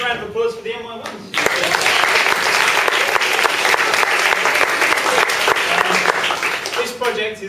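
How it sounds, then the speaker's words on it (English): Audience applause for a school's MY1 production fills the room, a dense, loud wash of clapping that starts abruptly and holds steady, with a voice speaking briefly before and after. "A big round of applause for the MY1s."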